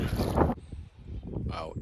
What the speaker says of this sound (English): it has got very windy